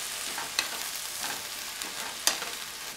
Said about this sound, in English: What I'm gonna do, I'm gonna saute these onions for a little bit.